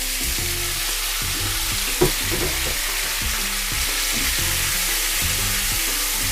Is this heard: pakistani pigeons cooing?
no